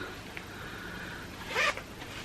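A zip on a pair of Nike plus-size joggers is drawn open in a single quick pull, a short rasping burst heard close and alone against quiet room background.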